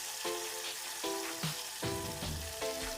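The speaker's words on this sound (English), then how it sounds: "you want to get a good hard sear and as much color as you can, as much brown as you can" Oxtails sear in a hot pot with a loud, steady sizzle, while several sharp, ringing metal clanks of tongs or a spoon against the pot sound up close.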